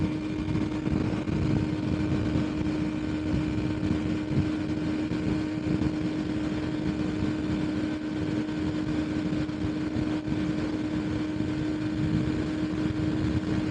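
Steady engine drone of a motorcycle underway, continuous and fairly loud, with a constant hum and broadband wind rush throughout.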